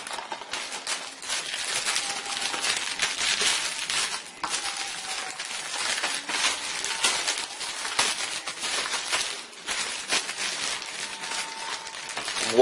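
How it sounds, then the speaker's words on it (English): Crinkling and rustling of plastic packaging as a boxed copy of Metal Gear Rising: Revengeance is unwrapped, continuous close crackle with small clicks and brief pauses. "plastic noise"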